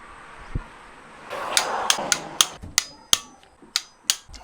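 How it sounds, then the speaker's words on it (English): Torque wrench tightening bolts on an RB25 engine during timing belt work, giving a run of about eight sharp, evenly spaced metallic clicks close by after a brief rustle, with no talk. "I'm going to torque these bolts up"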